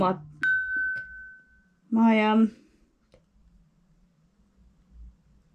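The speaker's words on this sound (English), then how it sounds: "my phone is going a little bit mental today" Phone notification sounds, a clear sustained electronic tone followed by a buzzing chime burst, close and distinct, with a brief voice fragment at the start and quiet background after.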